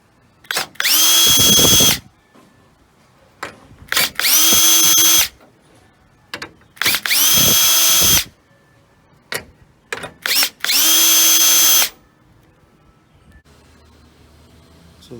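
A power drill whirs in four loud bursts of about one to two seconds each, removing four 10mm screws from the grille of a 2007-2013 Chevrolet Silverado, with quiet pauses and small clicks between the runs.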